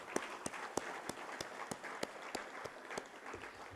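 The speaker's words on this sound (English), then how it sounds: "Let us come together again to give another heartfelt round of applause to celebrate the remarkable achievements of our distinguished alumni." An audience at a university graduation ceremony in Colombo claps, with sharp, regularly spaced hand claps standing out over a softer, steady wash of applause throughout.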